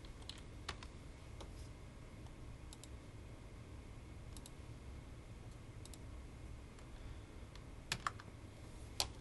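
Computer keyboard typing while entering values in CAD software, scattered individual key clicks and short bursts over a steady low background hum, close and fairly quiet.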